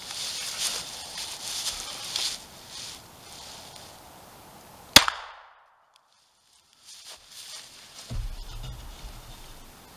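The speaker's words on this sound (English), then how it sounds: "First shot." A single sharp gunshot from a Browning .25 ACP semi-automatic pistol firing Winchester full metal jacket ammunition, loud and abrupt, followed by a brief silence, then faint outdoor movement and low rumbling noises.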